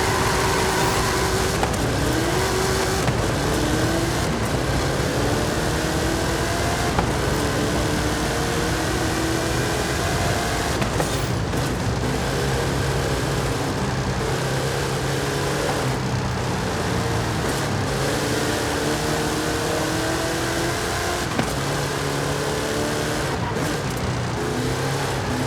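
Hot Wheels cars drag race in the Forza Horizon 5 video game, a loud continuous engine roar with rising revs and gear shifts, sustained at full volume throughout, with no talking.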